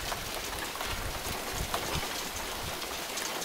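A rain and hail mix falls steadily outdoors, a dense hiss of drops with scattered sharper taps and patters of ice striking surfaces, fairly close and continuous without talk.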